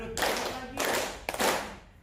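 Three bursts of hand clapping in a counted classroom clapping game, each burst a quick cluster of claps, close and fairly loud, with a faint voice underneath.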